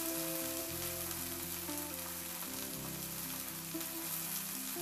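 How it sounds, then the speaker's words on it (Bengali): Chili and garlic fry in a pan with a soft, continuous sizzle and crackle, faint and even throughout, under a steady low tonal hum. "এবার লঙ্কা আর রসুনটা দিয়ে একটু নাড়াচাড়া করে ভেজে নেব মিনিট দুয়েকের জন্য।"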